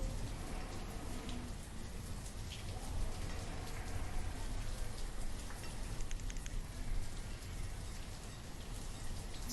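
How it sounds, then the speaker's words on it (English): Steady rain falls in the Banished village-building game during the rainy season, a dense continuous hiss of drops pattering on surfaces, even and unbroken throughout. "Get through this rainy season."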